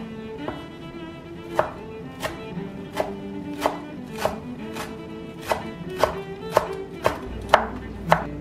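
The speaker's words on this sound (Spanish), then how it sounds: "Lo último que vamos a picar es este cilantro." A knife chops fresh cilantro on a cutting board, with about a dozen crisp, fairly regular taps close by that quicken slightly toward the end. No talk.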